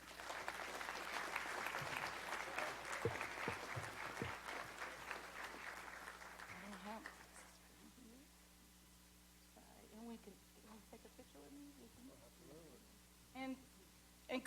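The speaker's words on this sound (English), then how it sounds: "Let's give them a round of applause." Council chamber audience at a Louisville Metro Council meeting breaks into applause, a steady round of clapping for about seven seconds that fades out, followed by quieter room sounds and scattered talk.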